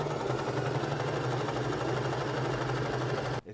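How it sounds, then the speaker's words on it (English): A sewing machine stitching down the cuff of a men's yukata, running continuously at a steady fast hum with a fine rapid needle rhythm, close and even, stopping abruptly at the end. "and we sew this cuff down"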